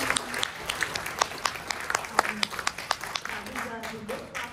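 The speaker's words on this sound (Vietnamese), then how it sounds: "Thành ra xin một tràng pháo tay để tri ân." Clapping from a gathering at a Vietnamese community fundraising event honoring South Vietnamese army veterans, moderately loud sharp claps of a modest crowd with faint voices mixed in.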